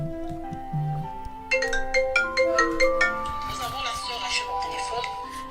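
A telephone ringtone for an incoming call plays a bright, repeating melodic tone pattern, clear and fairly loud, starting simple then growing busier over a few seconds, with no voices over it.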